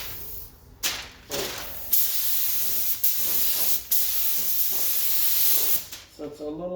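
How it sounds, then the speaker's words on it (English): A spray gun sprays alcohol onto a headlight in a series of sharp, close hissing bursts of varying length, with brief pauses between them and a little talk near the end. "Now I set my gun to not spray too much alcohol."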